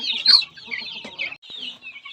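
Young chicks chirping up close, a busy run of high, shrill peeps and cheeps with short gaps, loud and without talk.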